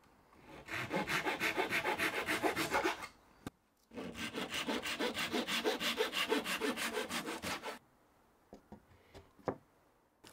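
A hand saw cuts through 10mm hardwood dowels on a bench hook in two close bursts of steady rhythmic rasping strokes, ending with a few light knocks and taps.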